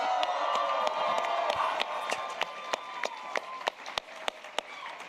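A live crowd at a Sonic anime expo panel cheers and claps, with whoops and scattered sharp claps over a sustained roar of voices that slowly fades.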